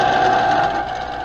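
A Smithy lathe/mill/drill combination machine under power, a loud steady mechanical whine and hum with a strong motor tone, easing slightly in level toward the end, no voices.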